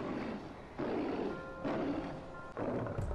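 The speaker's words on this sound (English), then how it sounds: "I hear a lion." Big cat roaring in the video game Far Cry 4, a series of deep, rough, drawn-out roars in three or four surges, loud and fairly near against a low ambient background.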